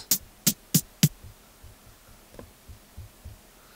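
Drum machine hits in Beatmaker 2, four bright, sharp snare cracks in quick succession, then a run of soft, low kick thumps with a faint hat tick, played alone.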